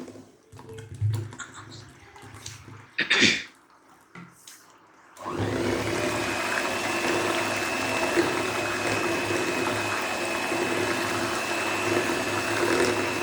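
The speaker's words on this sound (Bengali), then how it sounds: "ওটা আবার একটু ঠান্ডা জল দিয়ে বাটারটাকে" Cold water running or splashing over homemade butter, faint handling noises first, then a steady loud rush of water that continues to the end.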